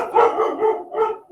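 A pet dog barks three times in a row, close and fairly loud, each bark a short full bow-wow with no one talking over it.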